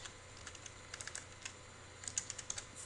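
Fast typing on a computer keyboard while writing code in Unity, an irregular run of light, close clicks at a low level with no voices.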